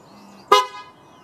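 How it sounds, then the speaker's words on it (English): A single short, loud Tesla Model S car horn honk sounds close by, a brief toot against a quiet background. "I can honk the horn."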